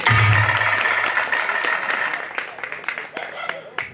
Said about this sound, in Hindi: आप सब ताली बजा कर स्वागत कर दीजिए